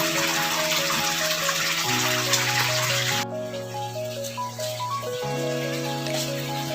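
Water runs steadily through a homemade two-stage filter, a trickle-shower setup of stacked blue drums fed by one pump, giving a continuous hiss that drops out partway while steady music plays throughout.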